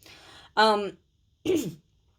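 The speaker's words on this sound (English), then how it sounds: "just clearing my throat." Two short throat-clearing rasps close by, separated by a brief pause, with quiet background between them.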